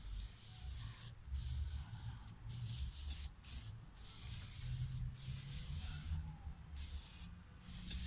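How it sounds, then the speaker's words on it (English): A sprayer wets thyme plants on a country farm in St. Elizabeth, Jamaica, a faint steady hiss in repeated bursts separated by brief gaps, over low background rumble. "you see Rodney spraying his thyme right now"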